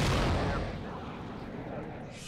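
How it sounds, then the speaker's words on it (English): Jet fighter firing missiles in the flight combat game Sky Gamblers Afterburner, a loud rushing launch blast at the start that trails off into a sustained roaring rumble. "I'm just launching missiles like nothing, guys."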